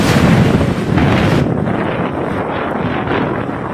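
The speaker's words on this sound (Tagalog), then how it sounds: "Sa lakas ng bugso ng hangin sa Sabtang, halos makalbo na ang mga dahon ng ilang puno." Strong typhoon wind gusts roar across Sabtang, Batanes, a loud, continuous rushing buffet that batters the microphone and eases slightly after the first blast, with no voices.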